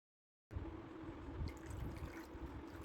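Water is poured over deity idols during a Janmashtami puja bath at home, making a soft, continuous trickling splash that starts abruptly after a brief silence and stays fairly faint.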